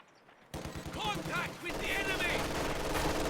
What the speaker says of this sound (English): Maxim doesn't manage to suppress those grenadiers on its first